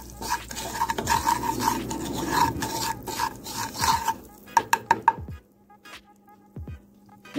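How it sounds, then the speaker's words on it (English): Sugar is stirred into butter in a pan for a cherry Easter egg dessert. A spoon scrapes in close, rhythmic strokes with a soft sizzle underneath. The strokes thin out into sparse clinks and pauses near the end. "Now I'm going to add a little sugar, guys. Get that incorporated with that butter."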